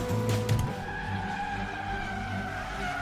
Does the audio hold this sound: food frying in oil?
no